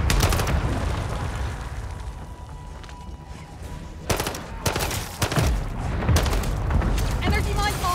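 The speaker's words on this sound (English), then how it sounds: "Mortar strike on the way." Mortar strike explosions in a video game land as a run of loud, sharp booms and blasts, clustered in the second half over a steady background rumble of gunfire and battle noise.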